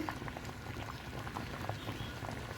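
A pot of curry bubbles at a low simmer, soft irregular blips and pops close by over a faint steady hum.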